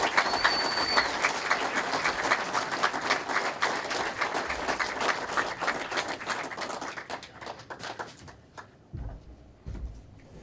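Audience applause at a county sports hall of fame induction ceremony, a sustained crowd clapping that holds steady for several seconds, then thins out and fades to a few scattered claps.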